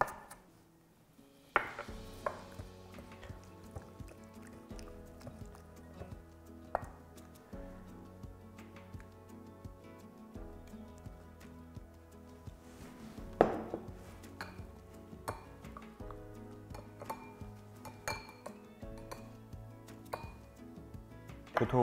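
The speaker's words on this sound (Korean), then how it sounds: "이 실파까지 한번 썰어줄게요." A kitchen knife chops fine scallions (thin green onions) on a cutting board while preparing silken tofu porridge, with quick, uneven, fairly close taps and occasional utensil clinks, heard alone.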